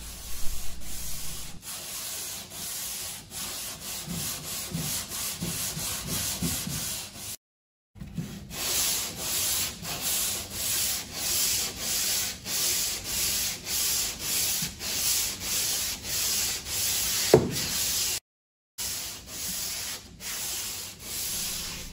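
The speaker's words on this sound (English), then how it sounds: "it's very easy to sand and requires little effort to create that seamless joint" Hand sanding of Wondertex Premium fill and finish filler over a wall joint: steady, close rasping strokes in a continuous rhythm, with two brief pauses and a sharp knock near the end.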